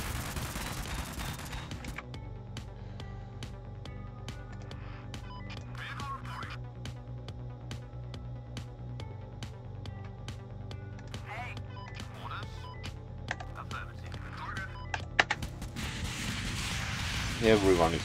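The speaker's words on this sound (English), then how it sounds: "Everyone is firing at something" Rapid gunfire from the video game Convoy: a dense string of sharp shots and bursts crackles steadily over a droning game soundtrack, with a few heavier blasts near the end.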